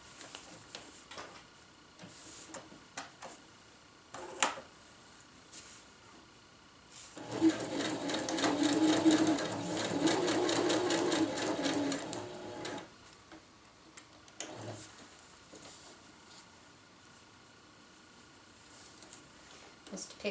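Reinforcement stitches are sewn into a winter tarp by a sewing machine in one rapid, ticking run of about five seconds, framed by quieter handling noises and faint talk before and after.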